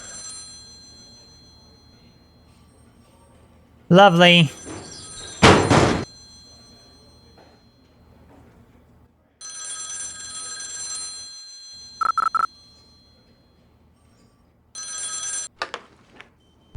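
A telephone rings in The X-Files Game video game, electronic ring bursts recurring several times between thuds and other game sounds, with a short spoken word.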